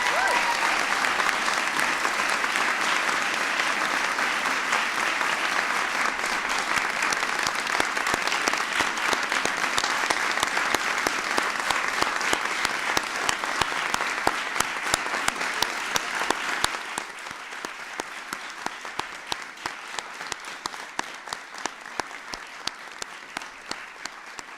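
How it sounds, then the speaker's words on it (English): An audience applauds at a speech by President Obama on the Affordable Care Act, giving a big round for a woman named Natoma. The clapping is loud and sustained for about seventeen seconds, then thins to lighter, more separate claps. "Give her a big round of applause"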